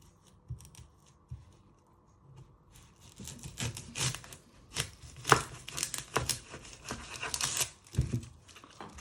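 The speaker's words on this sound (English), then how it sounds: "you chop your ends" A knife chops the ends off an onion on a cutting board, a quick run of sharp irregular taps and scrapes, close and fairly loud after a quieter start.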